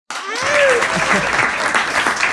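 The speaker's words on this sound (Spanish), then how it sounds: "ayúdame a darle un aplauso a mi amigo Yair Urbina" A burst of applause for goalkeeper Yair Urbina on a football podcast, starting abruptly and holding steady and close, with cheering voices and a whoop layered over the clapping.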